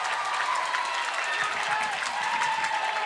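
A high school volleyball crowd at Sharyland vs McAllen Memorial cheers and claps in a loud, sustained roar that fills the gym, with a voice faintly audible under the noise.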